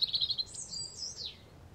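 Birds chirp in a sunny park, with a quick run of bright tweets followed by a longer sweeping whistled call, clear and moderately near, no voices.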